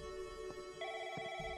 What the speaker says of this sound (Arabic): ايوه في تلفون.